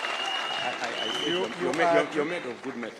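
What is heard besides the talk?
audience applause for the Deputy President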